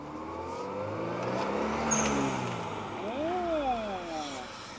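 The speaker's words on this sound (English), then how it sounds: "we're gonna go around the block, see how the blow valve sounds" A car driving around a block, engine rumbling and rising and falling as it accelerates, with a short whooshing release like a turbo blow-off valve partway through, heard from inside at moderate level.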